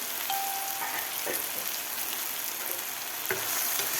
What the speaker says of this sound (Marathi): आता यावर झाकण ठेवून आपल्याला दोन ते तीन मिनिट टोमॅटो चांगलं शिजवून घ्यायचं आहे